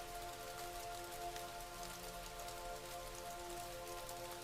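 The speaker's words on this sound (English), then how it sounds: "watching the rain." Steady rain patters onto the ground at night, a continuous soft hiss of falling drops with no voices, even and close throughout.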